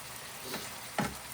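Hamburger meat sizzling in oil in a frying pan on a home stove, a faint steady fry with a couple of soft scrapes or clinks as it is moved.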